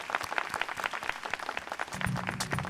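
Audience applause for award applicants at a business award ceremony, a brief burst of crowd clapping at moderate level, joined by a low sustained tone partway through.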